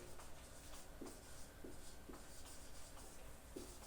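Marker or chalk strokes on a board during a lesson make soft, steady scratchy writing with small periodic taps, faint over a constant background hiss, with no one talking.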